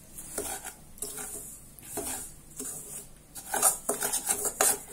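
A utensil scrapes and stirs semolina roasting in a pan with rhythmic clinks and light sizzling, growing busier and louder toward the end.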